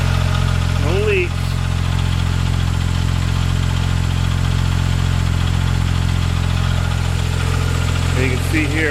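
A 2003 Porsche 996 Turbo idles steadily after startup with the coolant bleeder open, a low, even engine drone throughout, with a few brief squeaky noises near the start and end.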